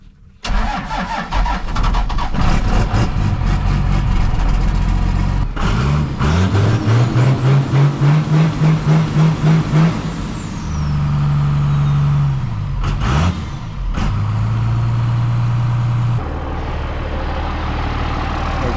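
A large truck engine cranks, catches and runs with a loud, rough rumble, revving up and down before settling into a heavy idle nearby.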